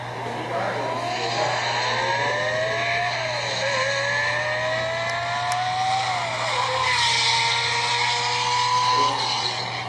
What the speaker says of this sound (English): we hardly hear a Countach at high revs, and it really sounded like a Grand Prix car